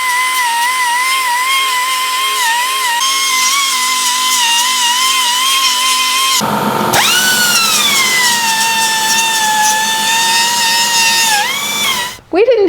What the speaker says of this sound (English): with the sander, make sure this is nice and clean and smoothed down and all the paint is off